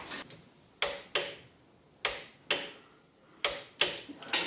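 Ratcheting torque wrench on header bolts, producing sharp metallic clicks in irregular pairs and singles with quiet gaps between, close and clear with no talking.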